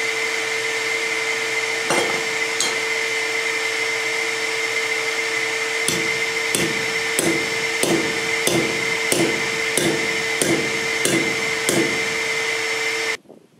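An Anyang power hammer drives a homemade blacksmithing tool to enlarge a hole, giving a run of about ten sharp, evenly spaced blows over a constant motor hum, then stopping abruptly.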